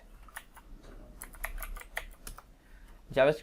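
Keys clack in quick uneven bursts on a computer keyboard as a web address is entered into a browser, ending in a louder final flurry, with faint background noise and no speech.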